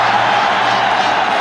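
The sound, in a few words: cricket stadium crowd roaring at Sharjah Cup match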